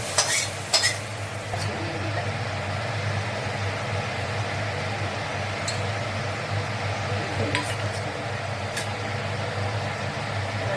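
Whole cumin seeds and dried chilies hitting hot oil in a pan, giving a steady, moderate sizzle with a few sharp clinks of utensils against the pan near the start and scattered later.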